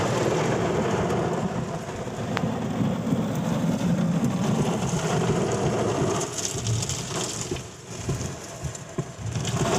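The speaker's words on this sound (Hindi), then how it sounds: "वर्षा के अंदाजा अहाँ सब साउंड से लगाए सकै छी।" Heavy monsoon rain pours steadily outside a window in Madhubani, a dense continuous hiss and patter with a low rumble beneath, unbroken and fairly loud without voices.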